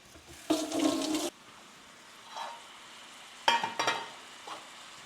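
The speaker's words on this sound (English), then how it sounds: "Just going to give my hands a quick wash." Hands rinsed under a running kitchen tap while cooking, heard as two short, fairly faint bursts of splashing water separated by quiet pauses, with no speech.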